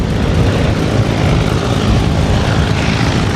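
B-17 Flying Fortress 'Sally B' flying at the Flying Legends air show, a loud, dense, steady roar of its radial engines droning without pause.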